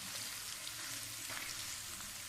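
Onions frying with ginger and garlic in oil give a steady, dense sizzle, close and even throughout with no voices.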